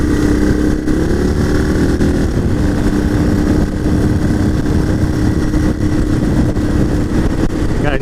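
A CCM R30S motorcycle rides at road-legal speed around a twisty Isle of Wight road-race circuit. Its engine gives a steady, loud drone under heavy wind rush throughout.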